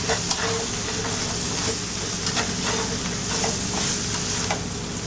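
Cut okra sautés in a pan with a loud, steady sizzle and crackle. Faint stirring scrapes sound close up, with no talking.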